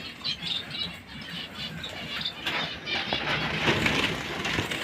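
Pigeons being given water in the hot May weather make scattered, faint squawks and chirps, mixed with light pattering and fluttering sounds at close range.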